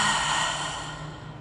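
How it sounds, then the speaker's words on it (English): A single big exhale pushed out through the mouth at the end of a beginner yoga class, a soft breathy rush that is loudest at the start and slowly fades over about a second, alone without talk. "Big exhale out the mouth."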